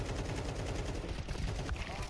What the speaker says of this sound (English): Suppressed gun.